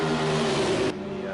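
Race car engine droning from an in-car camera during a Daytona 500 duel race, a steady loud tonal roar that drops abruptly in level partway through.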